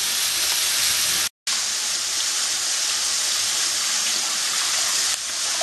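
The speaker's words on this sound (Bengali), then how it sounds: "ততক্ষণ আমি চালটা ধুয়ে নেব ভালো করে।" Rice grains being rinsed for Bengali-style khichuri, with a steady broadband rush of running water that continues almost unbroken for the whole stretch, pausing for a moment near the start.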